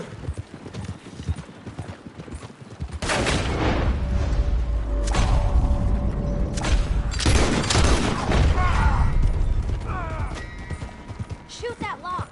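Gunshots crack in a Red Dead Redemption 2 shootout, heavy bursts of fire over galloping hoofbeats, with shouting voices in between.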